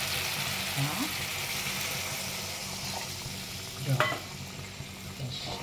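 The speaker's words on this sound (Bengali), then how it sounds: "এবারে এটাকে হাই ফ্লেম করে একটু ভালো করে কষিয়ে নেব" Onion-free masala for a vegetarian 'egg' curry being fried on a high flame in oil, with a steady broad sizzle and occasional scraping stirs of a spoon against the pan.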